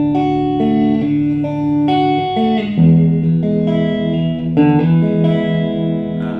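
Clean electric guitar notes and chords played with the pickup selector in position one during a pre-shipping check, a steady loud run of ringing picked strings with a few sharper attacks.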